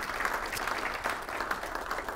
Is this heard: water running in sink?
no